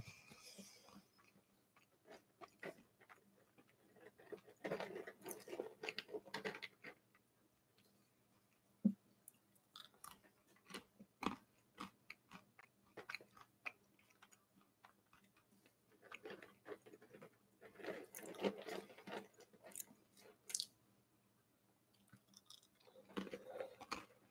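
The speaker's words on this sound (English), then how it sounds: "I didn't want to chew in people's ears." Peanuts being chewed right into a microphone, close-up crunching and wet mastication in bursts separated by quiet pauses, with small ticking clicks scattered throughout.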